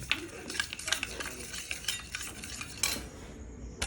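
A spoon stirs chicken pieces with sugar and soy sauce in a bowl for Bengali-style chilli chicken, giving soft repeated scraping and clinking at close range.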